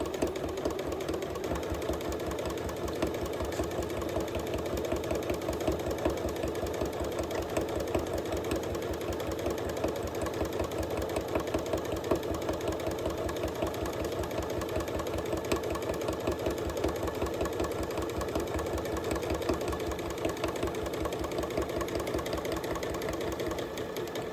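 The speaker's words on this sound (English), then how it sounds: "I'm just going to stitch along here using a 1/4 inch seam allowance" A sewing machine runs steadily, stitching a quarter-inch seam along fabric pieces for a bingo carrying caddy, a fast even mechanical whir that continues at moderate level throughout without talk.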